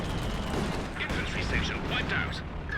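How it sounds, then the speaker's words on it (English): Centaur tank firing on Panzer Fusiliers in a World War II strategy video game, a dense wash of gunfire and explosions with bursty crackles under continuous battle noise, loud and close. "Panzer Fusiliers taking shots from the Centaur."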